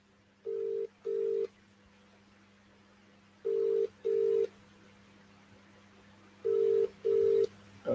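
An outgoing phone call rings unanswered: three pairs of short, steady double ringback tones, evenly spaced and clear against a faint background hum.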